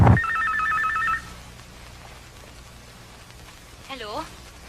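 Cellphone ringing with a repeated electronic two-tone trill for about a second, then a quiet stretch of background noise and a brief voice near the end.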